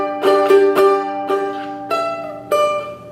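Plucked ukulele notes pick out a slow phrase, six clear single notes and chords spaced unevenly, each ringing briefly before the next.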